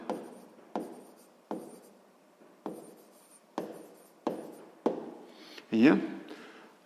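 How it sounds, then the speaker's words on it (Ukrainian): Pen or chalk strokes of handwriting during a sixth-grade math exercise, seven or eight distinct scratchy bursts at a steady pace followed by a louder rub, close and clear with no talk over them. "Давайте я так запишу."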